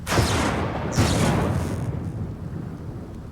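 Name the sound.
thunder from a video game storm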